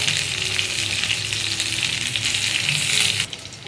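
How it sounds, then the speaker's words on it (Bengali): Brinjal (eggplant) pieces fry in hot oil for Bengali dudh shukto, a steady, close, bright sizzle that runs unbroken before dropping off sharply near the end. "সবশেষে বেগুনগুলো ভেজে নেব আলাদা করে।"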